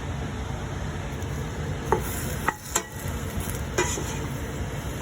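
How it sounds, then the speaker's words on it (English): Vegetables and spices sautéing in a pan for kitchari, a steady close sizzle with a few soft scrapes and clicks of stirring, no voices. "Next, I'm gonna add in the vegetables. There we go. And the spices. Just gonna wanna let that saute."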